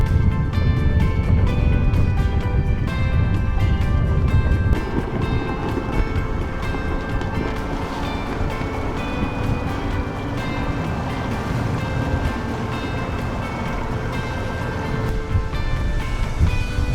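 Sailboats racing downwind in 14 to 15 knot evening breeze, with steady wind buffeting and waves rushing against the hull, loud and continuous, without talk.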